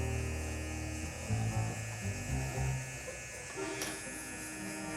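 Electric hair clipper, a Babyliss FXONE or Wahl Vapor, running steadily close by with a continuous buzzing motor hum that wavers slightly, no talk.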